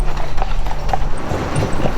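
Horse hooves clip-clop on a street in Old Quebec, a steady close rhythm of hoof strikes with city ambience around them and a voice faintly present.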